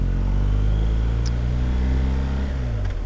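A 2019 BMW R 1250 GS motorcycle's boxer engine pulls hard after a gear change, a loud, steady, close drone that rises smoothly in pitch across the whole moment, with no voices.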